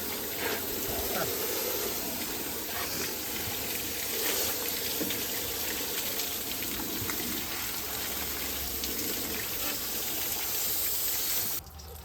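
Water sprays steadily through a clogged truck radiator, a dense continuous hiss and splash that stays loud and close throughout and cuts off sharply just before the end.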